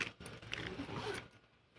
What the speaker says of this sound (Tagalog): gumagana pa yung zipper niya